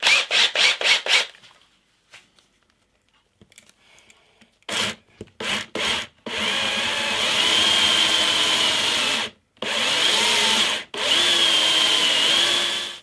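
A small indent tool grinds into the wooden body of a scratch-built electric guitar, widening a hole with a few short buzzing bursts, then long steady high-pitched whirring runs broken by brief stops, loud and close.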